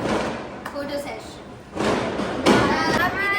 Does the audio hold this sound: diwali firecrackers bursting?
yes